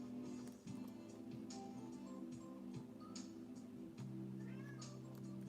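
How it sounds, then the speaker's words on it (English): A little gray house cat meows at a closed bedroom door. The cries are faint and brief, under steady background music in a room. "so now she's meowing at the bedroom door because she's going to go to my wife and try to get pets"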